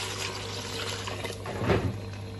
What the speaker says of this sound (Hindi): अब इसमें पानी ऐड कर देते हैं।